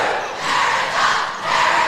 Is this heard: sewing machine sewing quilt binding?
no